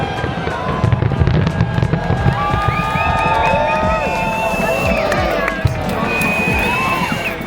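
New Year fireworks burst and crackle in a rapid, overlapping barrage, with whistling streaks and sharp pops over a cheering, chattering crowd outdoors.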